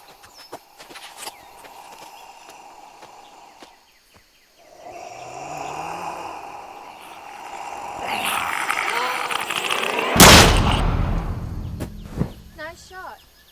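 Single loud gunshot in a zombie short film, set in a rural farm setting, with a sharp broadband crack standing out after quiet outdoor ambience, footsteps and low conversation.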